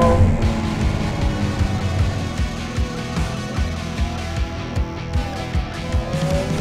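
A 2023 Ferrari 296 GTB hybrid supercar driving, its engine note steady and close from inside the car, with rhythmic bumps and shifts in pitch as it speeds up.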